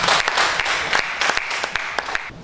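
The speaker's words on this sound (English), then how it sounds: "Please welcome him with a round of applause." Steady applause from a crowd at an event at Baze University, Abuja, dense clapping throughout with a few sharper individual claps standing out.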